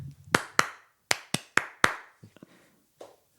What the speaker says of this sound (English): Yeah, we can clap out together.